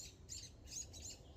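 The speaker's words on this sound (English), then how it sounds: "He's bothering those birds." Faint, brief high chirps from wild birds near a seed feeder, several quick calls over a soft, low background rumble.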